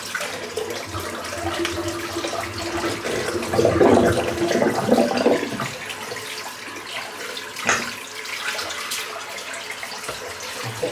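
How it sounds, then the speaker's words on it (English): A sink running and rinsing out water after a wet shave, with a steady gush from the faucet that swells and splashes for several seconds, then eases to quieter trickles and a few knocks. "So I'm just going to rinse this water out first."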